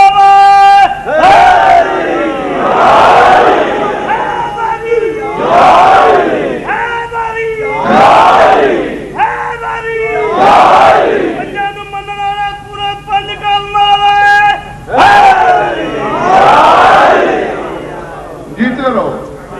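At a religious majlis gathering, a large crowd roars slogans in loud, rhythmic bursts, each call answered by a swelling collective shout, repeating several times with brief pauses between.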